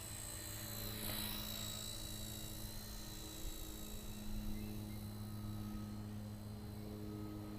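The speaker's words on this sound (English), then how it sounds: "Haven't been flying helicopter for a while." A tiny remote-control helicopter flies steadily outdoors, its high whining rotor and motor drone holding an even, continuous tone throughout with slight swells, fairly near and without talk.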